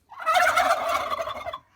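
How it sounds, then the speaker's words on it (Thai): A male turkey lets out a single rapid, warbling gobble nearby, loud and brief, with no other sounds around it. "ตะกี้ไก่งวงมันอยู่หลายตัวเลย"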